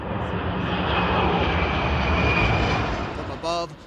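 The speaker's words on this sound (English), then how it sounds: "From above, planes carrying retardant have helped to stop or slow the progress of the fire" Firefighting airplane flying low over a wildfire to drop retardant, a loud, steady engine roar filling the whole stretch, with a brief harsh burst near the end.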